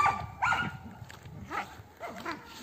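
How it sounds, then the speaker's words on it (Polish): Dogs play-fighting outdoors in a garden, with scattered barks, yips and growling scuffles at moderate distance, bursts coming irregularly over a couple of seconds. "Pieski walczą jak zwykle."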